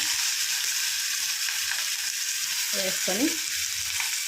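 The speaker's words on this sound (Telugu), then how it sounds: "ఆయిల్ వేసుకొని ఇప్పుడేమో పచ్చిమిర్చి, ఆనియన్ వేసుకొని" Green chillies and chopped onions frying in hot oil for a curry, giving a steady, dense sizzle with a brief stirring scrape near the end.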